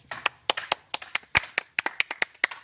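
A small group claps for an aunt at a dragon fruit farm: about a dozen quick, uneven claps over a few seconds, close and crisp, with no talking.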